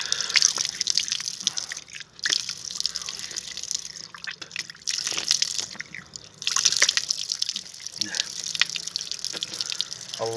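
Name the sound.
water running from a public fountain while washing face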